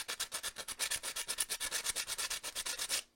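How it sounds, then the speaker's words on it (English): Wood being sanded by hand against the grain in a steady back-and-forth rhythm of about thirty close, loud rasping strokes, with no talk. "And obviously I want to sand against those lines."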